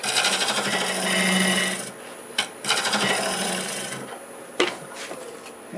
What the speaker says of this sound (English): We'll use the negative rake scraper on it. Get rid of those marks.